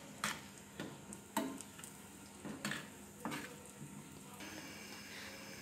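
Mustard oil with kalonji and onion cooks over low heat in a pan, giving a soft, faint sizzle broken by a few light clinking stirs and taps, close and quiet.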